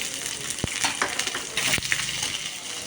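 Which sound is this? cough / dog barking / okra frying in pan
okra frying in pan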